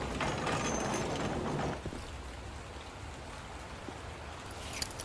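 Steady rain falling in the Batman Telltale Series video game, a dense hiss with patter on surfaces that is louder at first and then settles to a softer, even wash, with no talking.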